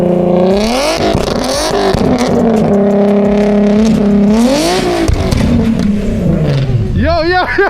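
An Infiniti G37 with a VQ engine revs hard and rises and falls in pitch while doing a burnout in a snowstorm, loud and close, with people talking and shouting over it throughout.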